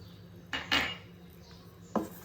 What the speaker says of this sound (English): So here I'm adding some almonds and pistachios.